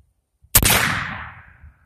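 A single sharp, loud shot from a cap and ball revolver cracks outdoors, its report followed by a long, fading reverberant tail.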